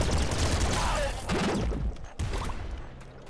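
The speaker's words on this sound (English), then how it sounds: "It's a grenade launcher." Grenade launcher firing in Nuclear Throne, several sharp bursts of shots and blasts clustered in the first two seconds, then a sudden cutoff and a quieter tail, with a voice speaking briefly between.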